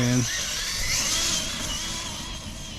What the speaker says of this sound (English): Almost sounds like something slipping, like the tire.